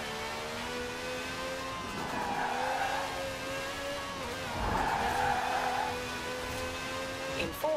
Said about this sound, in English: Drifting a Lambo.